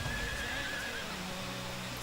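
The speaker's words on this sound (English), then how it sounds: "This is the season horse." A season horse neighs in the video game Diablo 4, a drawn-out whinny over a steady dense background of game ambience, with no talk.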